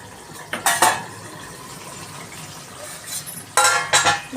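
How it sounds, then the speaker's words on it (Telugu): Cashew nut chicken is stirred in a pan, with two bursts of metal spoon scraping and clinking against the cookware over a faint background hiss. "ఒకసారి అంతా కలుపుదాం"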